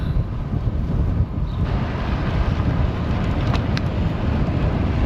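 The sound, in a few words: strong headwind blowing while cycling in Mallorca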